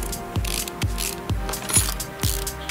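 Repeated ratcheting clicks of bolts being undone on an ABS module in the Car Mechanic Simulator 2018 video game, four or five evenly spaced mechanical bursts, close and clear with no talk.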